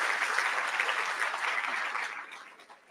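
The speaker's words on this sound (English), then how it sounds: "Let's give a big applause for the Palestinians again." Crowd applause at a lecture event in Pretoria, a thick, sustained patter of many hands clapping close by that fades away over the last second.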